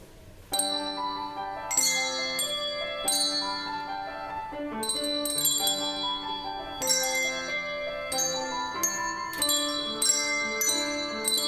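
Handbells ring out as accompaniment for a children's choir at a Christmas and holiday concert, steady overlapping metallic chimes and struck tones sounding continuously and fairly loud, with no talking.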